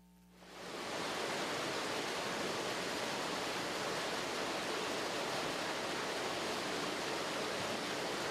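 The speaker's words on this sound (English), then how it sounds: "a narrow throat of stone that obscures roaring water, the Arcadian Fall, as it plunges from beneath the arch of Mile Point Bridge" Roaring water of the Arcadian Fall waterfall plunging through a narrow stone throat beneath the arch of Mile Point Bridge in Glen Arcadia, swelling in within the first second into a loud, steady, dense rush.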